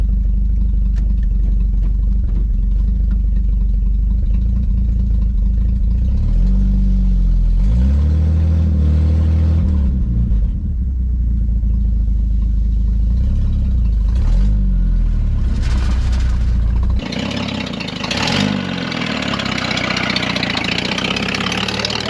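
A 1954 Plymouth Savoy engine, just revived after decades off the road, idles loud and close, then revs up and down a few times before settling back to a rough, steady idle.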